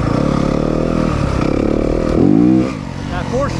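A 2023 Yamaha 250FX four-stroke motorcycle engine, loud and close, revving with a rising pitch sweep partway through, then settling back, under wind rush.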